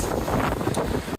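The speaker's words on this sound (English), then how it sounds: "Oh, 45 fucking mile an hour wind, man." Strong 45 mph wind battering a close microphone beside a truck during a windstorm, a loud, continuous buffeting roar that ends in a sharp gust burst.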